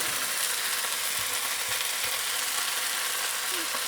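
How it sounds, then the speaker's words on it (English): Noodles and wontons are tossed in a hot pan under a dense, constant sizzle that fills the whole stretch, with faint stirring clinks now and then. "give it a quick stir"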